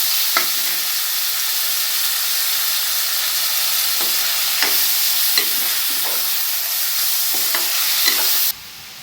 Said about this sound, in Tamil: போட்டு நல்லா வதக்குங்க. தக்காளி நல்லா மேஷ் ஆகி வரணும்.